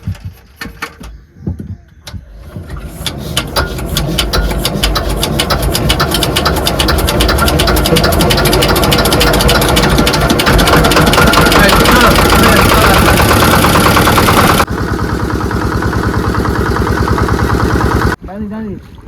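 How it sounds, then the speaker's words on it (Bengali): A fishing boat engine in the Sundarbans cranks with a few sputters, catches and settles into a loud, rapid knocking run close by, then drops in level and cuts off near the end. "এখন কিন্তু ঝটপট করে বোটটা স্টার্ট দেবো"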